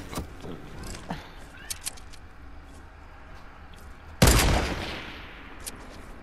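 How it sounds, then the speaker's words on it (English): A sniper rifle shot in the Fortnite battle royale video game rings out as a single sharp, loud crack followed by a decaying echo, after scattered faint clicks and distant pops. "why is my sniper shot so deadly"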